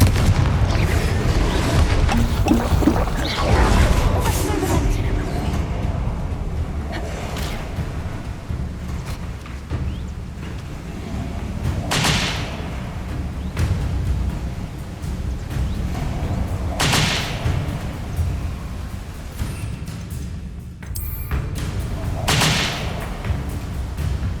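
A Confringo fire spell from Hogwarts Legacy lets off a few heavy booming explosions, spaced several seconds apart, over a dense, loud game soundscape of rumble and combat noise.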